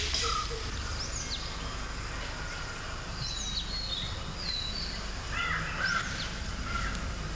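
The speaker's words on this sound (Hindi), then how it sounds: "जंगल के पक्षियों का कलरव।" Forest birds call in a river sanctuary setting, several crow-like caws and chirps scattered across a steady hiss of insects and ambient noise, moderately distant with no voices.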